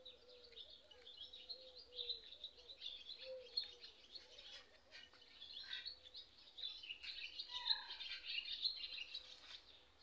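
Songbirds chirp and trill steadily in a garden among rose bushes, several birds calling at once at moderate distance over a faint low hum, with no talking.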